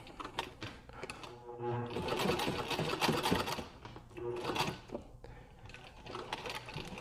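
A sewing machine stitches cowboy beer hat pieces, a close rapid mechanical whir in several runs with brief stops and a short backstitch burst.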